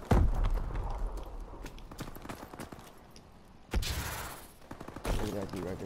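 Rapid futuristic gunfire in a Call of Duty: Advanced Warfare multiplayer match, bursts of sharp shots in quick rhythm with a couple of louder close blasts, over a faint background hum.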